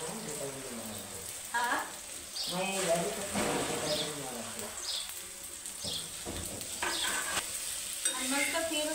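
Okra tipped into a hot pan with turmeric and salt, giving a steady broad sizzle with a few scraping stirs while a person talks over it throughout.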